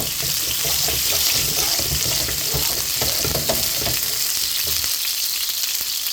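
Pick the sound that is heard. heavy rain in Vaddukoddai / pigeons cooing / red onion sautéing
red onion sautéing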